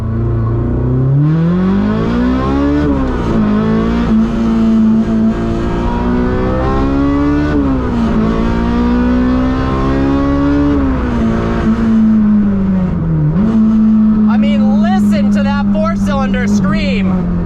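A Honda S2000 revs hard to high RPM while driving, its engine pitch climbing and dropping through repeated gear shifts, loud and close throughout, with a higher whine and squeals near the end.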